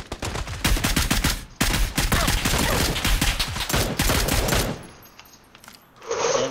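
Heavy bursts of automatic gunfire in the PUBG video game on Xbox One, loud and dense rapid shots rattling for about four seconds, then a lull with a fainter sound near the end.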